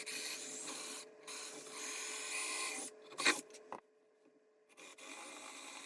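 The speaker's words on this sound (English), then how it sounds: "just drilling that real quick" A power drill whirs through wood in several bursts, with short pauses between holes and a brief louder grinding spike near the middle.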